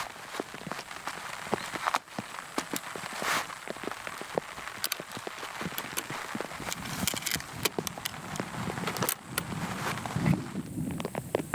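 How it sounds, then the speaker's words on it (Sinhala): Rain patters beside a lake at a campsite, many scattered drops tapping surfaces at close range in an irregular, steady patter with no talk. "වහිනවා"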